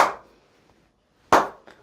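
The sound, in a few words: applause imitated by clapping with hands around the mouth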